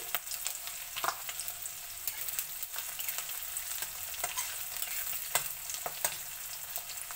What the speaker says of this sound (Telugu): ఫ్రై అవుతుందండి